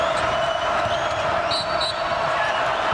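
Basketball arena crowd at a Texas A&M at Kansas game roars steadily, a loud sustained mass of cheering voices with sneaker squeaks and a commentator talking over it.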